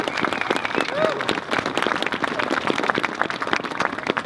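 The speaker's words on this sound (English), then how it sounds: "So give the Ladies Association a round of applause if we could." At a Presidents Day 2014 event in Virginia, the audience gives a steady round of applause, a continuous dense clatter of many hands with faint crowd murmur and some voices mixed in.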